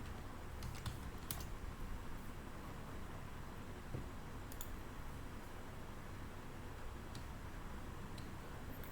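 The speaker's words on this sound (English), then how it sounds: "Sorry, my keyboard got stuck" Keys clack on a computer keyboard in brief scattered bursts of typing, faint and close, separated by pauses over a soft background hiss, with no speech.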